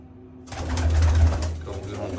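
Loft pigeons coo in a deep, steady rumbling call that starts abruptly, holds close and fairly loud, then eases slightly.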